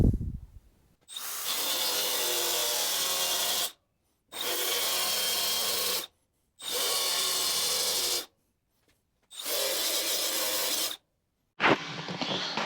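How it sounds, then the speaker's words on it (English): Spot welds being ground out of the rear wheel arch on a Mk1 Ford Fiesta: four long, loud, steady bursts of harsh abrasive grinding, each lasting a few seconds and separated by short silences, ending in a brief fifth burst. "I can just grind where all the spot welds are."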